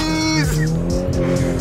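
A Toyota 86 drifting as cars leave a meet, with loud, close tyre squeal sliding across a revving engine note that climbs and falls, plus shouting nearby.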